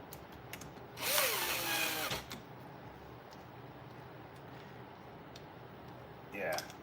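A power drill drives two screws: a loud, whirring burst of about a second, a quiet pause with faint ticking, then a shorter second whir, with voices in the background.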